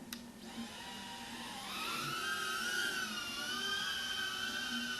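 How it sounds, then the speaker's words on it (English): FPV quadcopter motors spin up, picked up by an onboard microphone on an ImmersionRC Powerplay with an audio mod, giving a steady high electric whine that climbs in pitch and holds loud and close. "let's fire up a quad and see what this sounds like"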